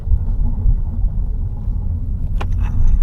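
Car engine rumble and road traffic on a rainy Saturday in Pasig, a loud continuous low drone inside the vehicle with a few brief clicks near the end.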